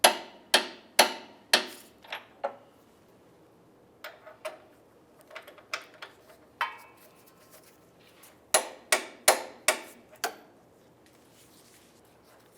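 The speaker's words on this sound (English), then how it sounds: "Torque each of these to 100 foot-pounds." A torque wrench clicks sharply while tightening rear upper control arm bolts on a 1998-2002 Lincoln Navigator, with bursts of close, crisp clicks in quick clusters and quieter ratcheting taps in between.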